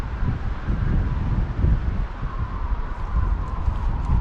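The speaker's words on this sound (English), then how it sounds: "Listen to that wind." Strong wind gusts through a forest near the West Fork of the Black River in the Arizona highlands, a low, roaring rumble with a faint wailing tone, rising and falling steadily over microphone buffeting.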